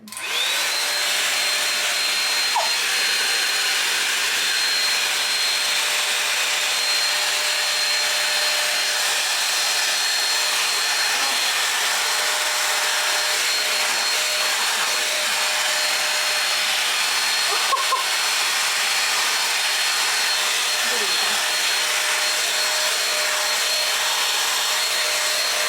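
A Shein 5-in-1 hot air styler blows continuously, a steady, even rushing whoosh with a faint whine that runs unbroken from start to finish.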